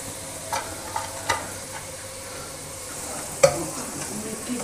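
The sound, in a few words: vegetable pakoras sizzling as they are taken out of oil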